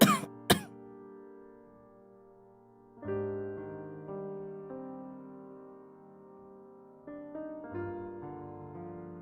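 Two quick coughs from a character with a slight cold in the game Unsolved Case Files, followed by quiet, gentle melodic music.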